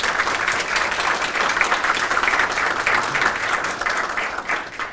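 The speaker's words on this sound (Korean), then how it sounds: "박수로 환영해 주십시오." Audience at a policy forum applauding to welcome a speaker to the stage, a dense, steady round of clapping that holds evenly and tapers slightly at the end.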